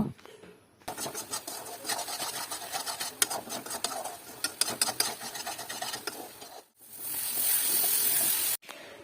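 A spatula scrapes and stirs a spice paste with turmeric and salt in a pan, making dense, continuous rasping strokes up close, then a brief pause before a steadier hiss to the end.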